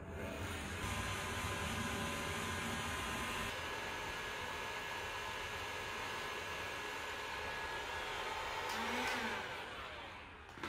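A heat gun blows steadily to warm the glue of tint film being applied to a car headlamp on a cold night, a continuous close airy whoosh with no talking.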